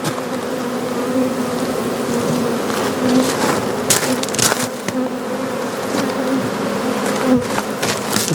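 Honey bees buzz densely around hive frames holding bees and honey, a loud, continuous swarm hum close by with occasional sharper individual buzzes and light knocks of frame handling.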